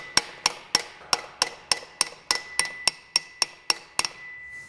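A hammer strikes sheet metal held against a dolly for custom dash work on a 1929 Ford Model A hot rod, giving about fourteen sharp, ringing metallic blows in a steady, evenly spaced rhythm, close and clear.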